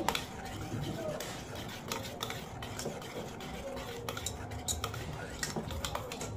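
Idli batter being mixed with salt in a bowl: irregular scraping, clinking and sloshing strokes of a spoon against the bowl, close and fairly quiet, with a voice speaking softly at times.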